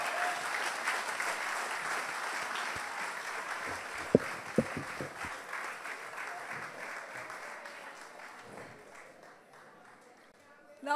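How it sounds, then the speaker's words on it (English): Half-hearted applause from an audience at a public People's Assembly in St. Michael, a steady, moderate wash of scattered clapping that slowly thins and fades over several seconds. "That was a very half-hearted applause."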